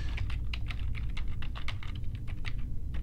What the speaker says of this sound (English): I'm going to type this in here.